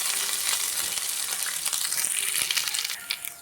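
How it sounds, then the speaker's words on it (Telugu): Curry leaves and okra deep frying in hot oil over a medium flame, a steady bright crackling sizzle with scattered pops running throughout, close and fairly loud with no voices. "ఇది కూడా మంచిగా డీప్ ఫ్రై అవ్వనివ్వాలి."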